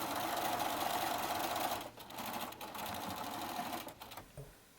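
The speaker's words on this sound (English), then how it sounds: "I am sewing the short ends of the rectangle together to make it into a tube" A sewing machine stitches the short ends of a fabric rectangle together into a tube, its motor whirring continuously up close with a couple of brief pauses before it stops.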